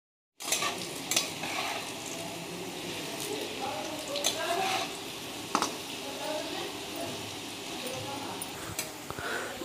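Potatoes fry in a pan for Bihari-style aloo pag with a steady close sizzle, punctuated by occasional scrapes and clinks of stirring.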